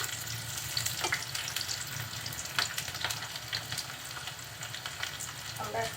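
Panch phoron spices frying in hot oil for a mixed vegetable curry, a steady crackling sizzle with occasional brief stirring clinks, close and moderately loud, with no talking.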